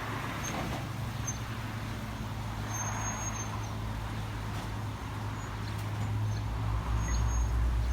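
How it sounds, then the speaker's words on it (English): A car pulls away outdoors, its low engine rumble steady and then swelling slightly toward the end, with faint birds chirping above it and no voices. "I'm saying goodbye to the car that I used to live in."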